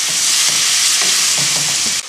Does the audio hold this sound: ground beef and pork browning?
yes